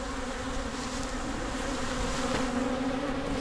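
Honey bees buzz densely around hive number three, a steady, close, droning hum that holds level throughout with no talk.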